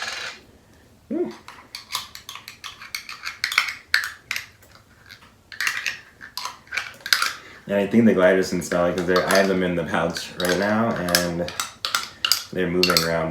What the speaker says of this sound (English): the metal against the glass of this little jar